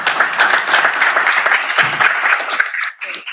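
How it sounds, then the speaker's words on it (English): Applause from the audience at a Hampton Roads Planning District Commission meeting, a burst of dense clapping by many people in a room, steady and loud for about three seconds before quickly trailing off. "I think we need to give them a round of applause"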